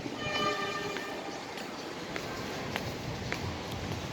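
A train idles at a railway station in Luang Prabang, its steady low rumble and hiss running under a distant murmur of people, with a few faint clanks and short metallic squeaks.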